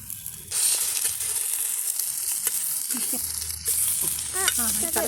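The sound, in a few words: marinated fish frying on a hot tawa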